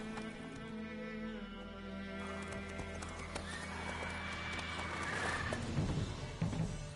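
In The Witcher 3, the horse Roach gallops with rhythmic hoofbeats and neighs loudly near the end, heard close up without speech.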